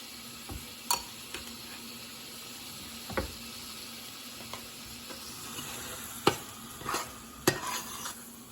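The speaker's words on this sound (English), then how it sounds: "you just stir it up really good" A thick salmon ball mixture being stirred in a bowl, with a handful of scattered scraping and knocking strokes over a steady background hum, no talking.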